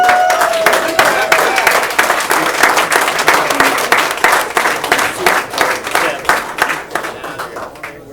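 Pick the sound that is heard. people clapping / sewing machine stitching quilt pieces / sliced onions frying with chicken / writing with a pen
people clapping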